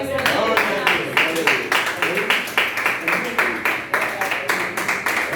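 A church congregation applauds in a steady rhythmic beat, a dense run of evenly spaced hand claps filling the room, with voices carrying along underneath.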